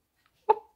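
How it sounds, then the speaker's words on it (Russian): A dog gives one short, faint bark in an otherwise quiet moment. "Собаки лают, она отвлекается."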